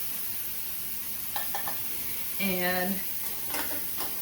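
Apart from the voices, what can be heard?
pork tenderloin searing in a pan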